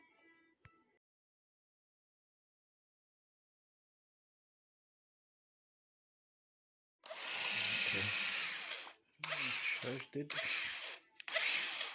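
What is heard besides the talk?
power drill mixing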